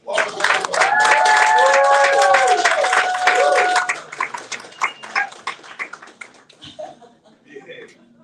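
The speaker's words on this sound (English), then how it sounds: "Give her a round of applause." A room audience bursts into loud, dense clapping mixed with whoops and vocal cheers for about four seconds, then the applause tapers into scattered claps while people murmur and laugh.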